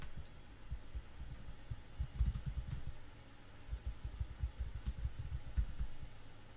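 Fast typing on a computer keyboard while building a prototype layout, close and fairly soft, with bursts of quick key clicks and brief pauses, no voices.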